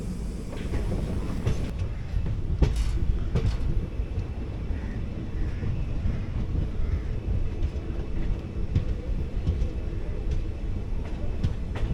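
The 14088 Runicha Express passenger train runs on its rails, a steady, loud rumble with clattering wheels heard from on board, continuous throughout.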